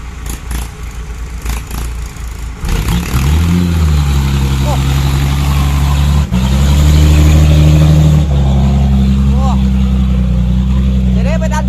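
A car engine revs and strains hard over a rough off-road track, a steady loud low drone that rises in pitch and holds, with brief dips, as someone talks over it.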